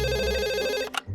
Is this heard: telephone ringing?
yes